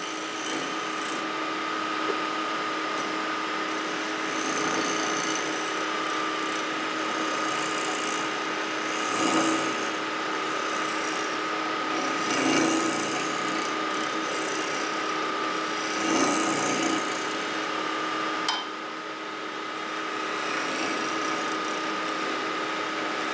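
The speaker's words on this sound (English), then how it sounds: "let's scrape off the high spots" A chisel scrapes the inside of a wooden kuksa cup turning on a lathe, giving a steady whirring, rasping drone with a few louder scraping swells, close and continuous with no talk.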